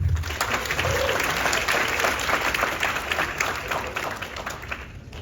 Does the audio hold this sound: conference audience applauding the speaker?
yes